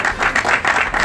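Audience applause welcoming Jean-Claude Wemba, a brief burst of steady clapping from a gathered crowd, moderately loud and continuous with no voices over it.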